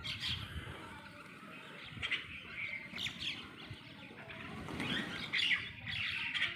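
Many birds, including pigeons, chirp and twitter together while feeding on scattered grain, a busy, continuous chorus with occasional wing flutters, moderately close and fairly soft.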